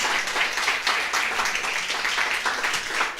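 A church congregation at a Spanish-language Sunday service applauds together, a fairly soft but continuous wash of many hands clapping that holds at an even level throughout.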